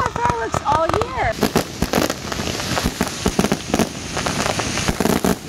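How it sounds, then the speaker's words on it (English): Fireworks burst in a steady series of sharp cracks and pops, loud and close, while a voice speaks briefly at the start of the outdoor display. "you've been waiting for fireworks all year"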